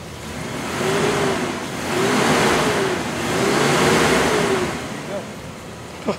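Car engine accelerating in a series of rising revs, each swell climbing and falling back, loud and near, with rushing noise throughout.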